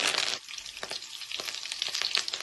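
Urad dal, cumin, mustard seeds and peanuts tempering in hot oil: a loud sizzling burst at first, then a quieter crackle with scattered pops and stirring clicks.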